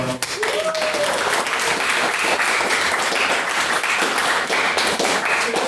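A debating chamber audience claps again for three maiden speakers, a steady crowd round of applause with scattered sharper claps and faint voices underneath, holding loud across the whole stretch.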